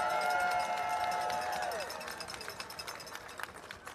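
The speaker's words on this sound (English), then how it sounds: "Don't they deserve a round of applause?" A political rally crowd breaks into applause and cheering, a continuous dense wash of clapping that fades slightly toward the end after a brief ringing tone at the start.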